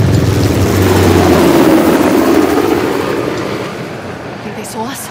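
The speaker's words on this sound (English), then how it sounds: "How the hell did Asov get that helicopter?" A helicopter from the video game Uncharted: The Lost Legacy rumbles loud and close with a steady thudding drone that gradually fades, while voices speak over it.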